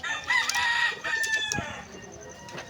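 A rooster crows loudly and close by in a breeding pen holding several hens, its long harmonic call rising and then trailing off, with a few faint clucks behind it.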